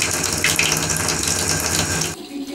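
Water runs hard from a household tap with good pressure, a loud continuous gush that cuts off abruptly near the end.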